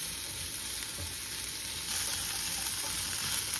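Cranberry (vaakaya) pieces sizzle steadily in a hot pan for chutney while being stirred, a continuous close hiss that rises slightly partway through, with no voices.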